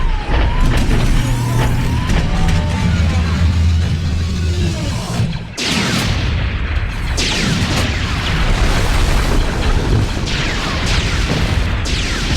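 Star Wars AT-TE walker blaster fire: loud, continuous battle effects with repeated heavy laser shots and booming blasts over a rumbling low background, nearly unbroken throughout.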